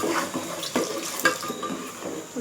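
Water splashes into a pan of frying pomfret fish masala, a short, steady pour with bubbling and sputtering as it meets the hot oil.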